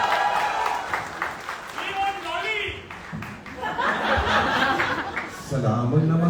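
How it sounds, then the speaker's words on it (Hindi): Audience at a film press conference claps and chuckles, a mix of scattered applause and laughter with voices talking over it. "एक बार जोरदार ताली चाहिए सिद्धार्थ के लिए."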